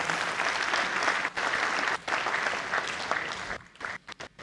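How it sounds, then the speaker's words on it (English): A crowd at a Nigerian Armed Forces passing-out ceremony gives a sustained round of applause for the special guest of honor, dense clapping that runs on and then breaks up into scattered claps near the end. "Shall we give the special guest of honor another round of applause?"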